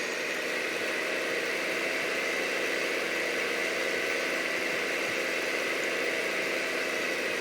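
Tractor engine droning steadily while driving in Farming Simulator 2015, a constant even hum with no breaks and no talk.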